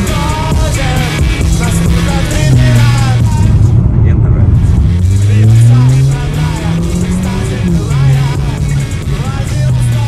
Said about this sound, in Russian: Чтобы он ощущал, насколько сочным может быть выхлоп автомобиля.